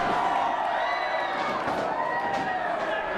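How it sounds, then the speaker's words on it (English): A wrestling crowd at a TWF event at the Colonial in Sacramento roars with loud, sustained cheering and shouting that fills the whole stretch without a break. "This crowd erupts as HAKEEM goes to town on Christian Black."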